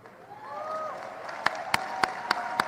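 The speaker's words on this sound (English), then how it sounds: "Polite applause." A few slow, evenly spaced single claps ring out after a wavering tone on an election-night livestream, sparse and polite rather than a full ovation.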